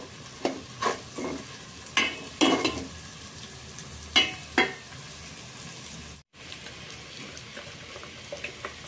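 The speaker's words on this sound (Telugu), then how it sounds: "ఇవన్నీ మంచిగా ఫ్రై అయ్యేంత వరకు వేపుకోవాలి" Vegetables and spices for veg pulao fry in a pan and get stirred, giving a low sizzle with repeated scraping stirs in bursts. A brief dropout occurs partway through.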